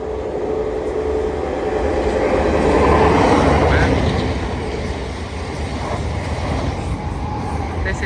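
A two-unit Thameslink Class 387 electric train passing at South Croydon on the Brighton Main Line, a steady rumbling roar that swells to a peak midway and then eases off, close by.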